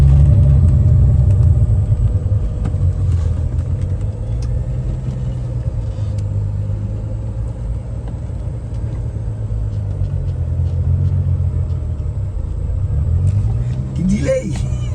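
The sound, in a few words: car spinning in a burnout, engine rumbling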